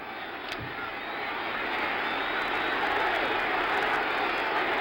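Stadium crowd at a 1975 NFL game between the Washington Redskins and Dallas Cowboys, a broad, distant roar that swells steadily and holds loud to the end.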